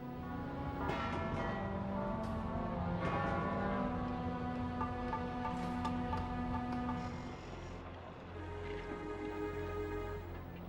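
Church bell tolling in a steady sequence of resonant strikes, each ringing out with long humming overtones, moderately distant and alone without voices.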